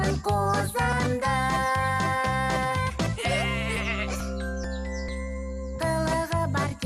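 A cartoon lamb bleats in a Kazakh children's animation about calling farm animals, with wavering cries set against steady, loud musical accompaniment.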